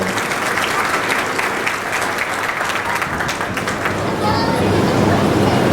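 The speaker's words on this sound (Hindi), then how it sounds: "महाराणा प्रताप की सबसे पहले मैं जोरदार तालियों के साथ नमन" Loud, sustained applause from a crowd at a Rajput community Maharana Pratap festival event in Mangrulpir, Washim, with steady clapping that continues for several seconds.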